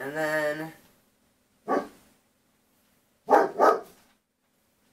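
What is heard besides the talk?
dog barking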